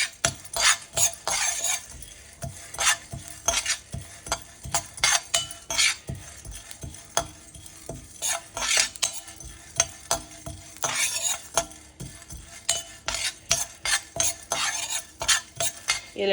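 Fenugreek seeds are dry-roasted and stirred in a pan, with a busy, rhythmic run of close spoon scrapes and rattling seeds that keep going nearly without pause.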